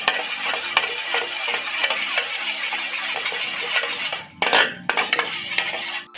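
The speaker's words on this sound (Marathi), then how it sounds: "वेल हे घालूया जिरेपूड आता हे सगळे मिक्स करूया" Spoonfuls of ground cumin stirred into okra frying in a pan, with steady scraping and sizzling clatter that runs almost without a break and drops briefly near the end before resuming.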